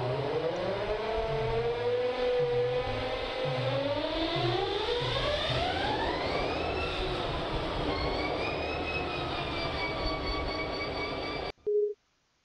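Diesel locomotive engine starting up in the Run 8 train simulator game: a rhythmic low chugging as it cranks, then a rising whine and roar that climbs and holds steady, loud and close, before cutting off with a short final tone.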